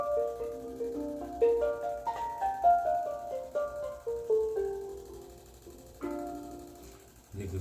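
A steel pan plays a run of bright, bell-like struck notes stepping through a full chromatic scale, each ringing briefly and fairly softly over faint background hum.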